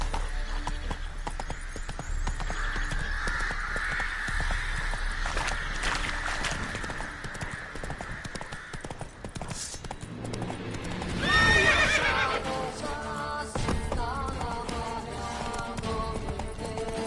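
Roach the horse from The Witcher 3 galloping with steady, loud hoofbeats under a continuous game soundscape, then a sharp neigh partway through before the hooves carry on.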